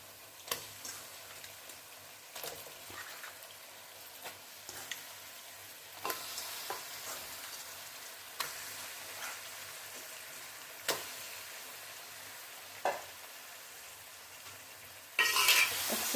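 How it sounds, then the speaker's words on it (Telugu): Washed chicken frying in a pan for a lightly spiced chicken curry, a soft continuous sizzle with periodic ticks and scrapes of a spoon, ending in a louder burst of hissing. "నెక్స్ట్ వాష్ చేసి పెట్టుకున్న చికెన్ యాడ్ చేస్తున్నాను."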